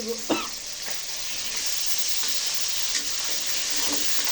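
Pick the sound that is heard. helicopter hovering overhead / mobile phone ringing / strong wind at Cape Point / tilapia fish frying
tilapia fish frying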